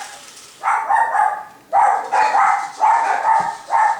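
Dogs bark indoors in a home, loud and close, in a run of sharp repeated barks, four clusters over a few seconds with brief gaps.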